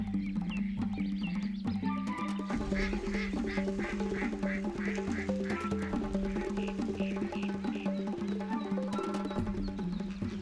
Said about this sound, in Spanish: Los patos son las aves más representativas y abundantes de los humedales.